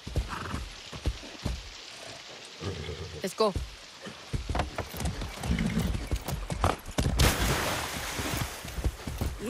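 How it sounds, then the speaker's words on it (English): Horse hooves clip-clop at a fast, galloping pace in Far Cry 6, with a whinny partway through, under a steady wash of rain-like noise while someone talks briefly. "That's a good horse."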